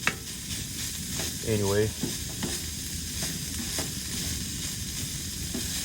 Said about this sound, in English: So it does have a non-stick coating, but I like to cook with a little olive oil.